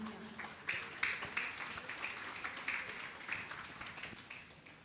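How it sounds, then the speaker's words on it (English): Audience applause at a Diwali celebration, steady clapping from a crowd heard faint and somewhat distant for the whole stretch. "a lusty round of applause"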